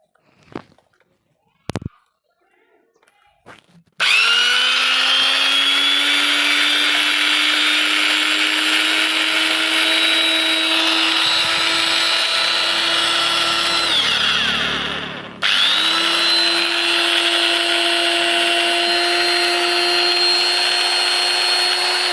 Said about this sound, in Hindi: अब चलिए इस मशीन को अब हम चला के दिखाते हैं।